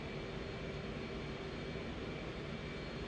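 F/A-18 jet engine at full throttle in the DCS flight simulator, a steady faint roar with a whining tonal hum, unbroken and even throughout.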